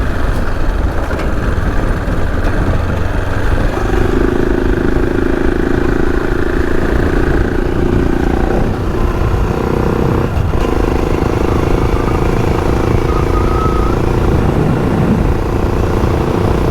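Motorbikes drone on an outback dirt track in the Flinders Ranges, a steady engine hum with rising and falling tones under constant rumbling noise.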